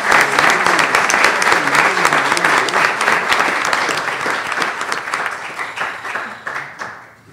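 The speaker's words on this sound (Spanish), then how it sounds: "Pido un aplauso para la autora de la Sagrada Mitra de Guadalajara" Sustained applause from an audience at a genealogy panel in Guadalajara, honoring the author of a work on the Sagrada Mitra. The clapping is dense and loud at first, then gradually thins and fades toward the end.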